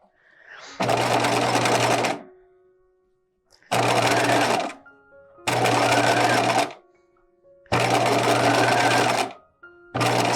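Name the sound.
sewing machine stitching down elastic on a bodice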